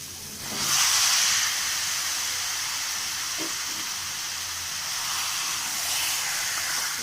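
Marinated chicken dropped into a frying spice paste for chicken Maharani, a loud burst of hissing sizzle that settles into a steady continuous frying sizzle, close and without talk.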